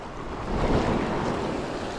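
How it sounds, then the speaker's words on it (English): Ocean waves roll up onto a beach in the Marquesas as a steady, close wash of surf mixed with wind noise on the microphone, with no talking. "So the waves are rolling up and then coming back again."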